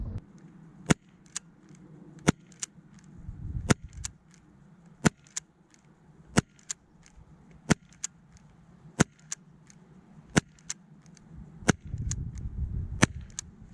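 Sharp, snappy shots from a Makarov ICS airsoft pistol powered by a new CO2 sparklet, about fifteen single cracks at irregular intervals, close and distinct over a faint background.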